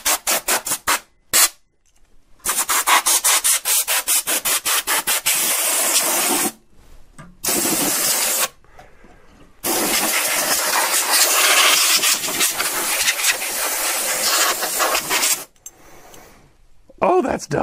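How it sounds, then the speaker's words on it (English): Bursts of forceful hissing air blasts from a portable air compressor blowing dust out of a computer, close and loud, starting and stopping several times with short silent gaps between them. "I have a portable air compressor here"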